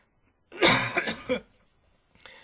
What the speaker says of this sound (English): sorry for my coughing